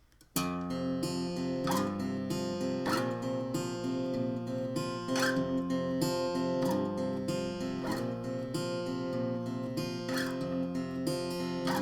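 Close, clear acoustic guitar plays a full passage of a song, with steady picked notes over ringing strings and regular sharp strum accents about every second and a half, with no talking.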